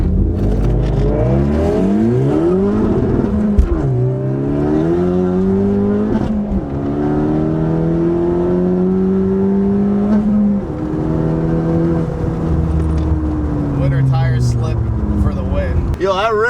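A 2018 Honda Civic Si and an Infiniti G37 rev and accelerate in a street race, loud engine tones rising and falling through gear changes, with people talking over them.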